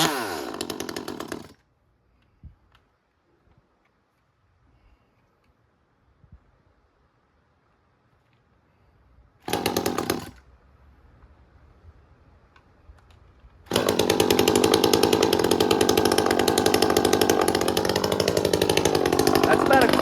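An Echo 2511 chainsaw after performance work and carburetor tuning idles in short bursts, then runs loud and steady, with long quiet gaps and faint handling sounds between.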